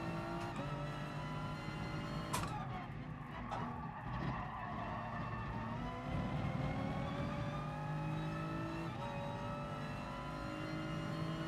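A Toyota Supra race car in Gran Turismo Sport roars through a mountain daily race, its engine holding a loud, sustained drone with shifting pitch, brief tire skids and revs, close and continuous.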